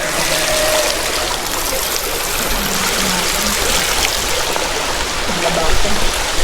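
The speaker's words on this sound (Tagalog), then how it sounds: "nakita ko tong ilog na to" A river stream flows steadily, its broadband rushing and trickling water filling the whole clip at close range, with faint voices under the flow.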